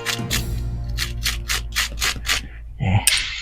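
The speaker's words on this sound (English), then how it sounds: "the screws that I've took out, I like to give them a little bit of a wire wool" Metal screws removed from a blade assembly being scrubbed with wire wool to clear old threadlocker, a steady run of about eight rhythmic rubbing strokes, close and fairly loud, with a brief clink near the end.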